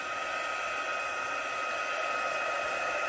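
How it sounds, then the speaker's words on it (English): A heat tool blows a steady, loud, unbroken whoosh of hot air to dry watercolour on an embossed card, close up and alone without any voices. "But I will get my heating tool and just dried up a little bit faster so that I can finish making this card."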